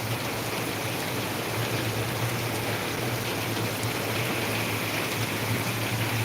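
Heavy monsoon rain pours steadily outdoors during a red-alert storm, a dense continuous wash of water noise with a low hum underneath, unbroken and fairly loud throughout.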